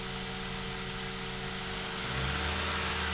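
A car engine held steady around 2,000 RPM with the gas pedal, a continuous mid-pitched hum that deepens and swells slightly toward the end, heard from inside the car with no talking.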